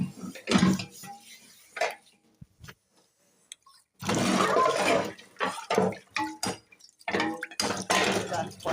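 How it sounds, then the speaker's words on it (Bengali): Dishes, pots and a kadai being scrubbed and rinsed by hand, close clinks, scrapes and splashing water in bursts with a short quiet gap, a voice speaking at times over the clatter. "যে বাসন মাজছি বন্ধুরা,"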